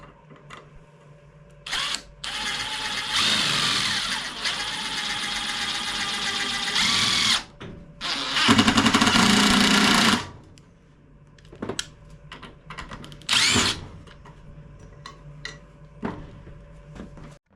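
A power drill whirs in several bursts, pre-drilling holes in wood, some runs long and some short, with clicks and handling noises in between the runs.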